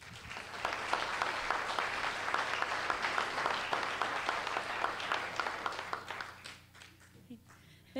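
Audience applause welcoming Amy Galpin at an artist talk, a dense, steady wash of many hands clapping for about six seconds before thinning out and fading near the end.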